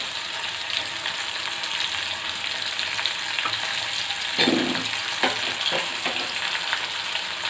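Green chillies and curry leaves crackle and fry in a pan of oil, a steady close sizzle that briefly grows louder with spattering and stirring clicks midway, no voices.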